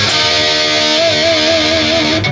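An electric guitar plays a loud, heavily distorted palm-muted riff, sustaining a dense buzzing tone with a wavering vibrato note that rises out of the middle and holds for about two seconds.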